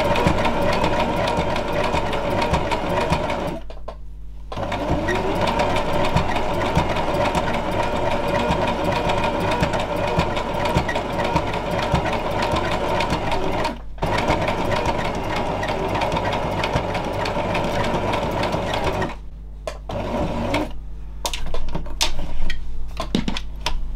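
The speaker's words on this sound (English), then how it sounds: "What I would say about the sewing anyway with a machine" A sewing machine stitches a fabric junk journal cover, a steady fast mechanical whir that runs for long stretches, broken by a few brief stops and then short, stop-start bursts toward the end.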